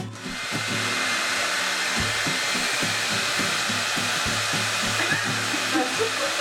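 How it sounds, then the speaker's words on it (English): A blow dryer runs loud and close without pause, a steady rushing hum with a low droning motor tone underneath and no voices. "No, it's the blow dryer."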